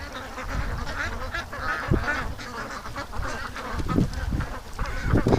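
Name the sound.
ducks quacking near a lake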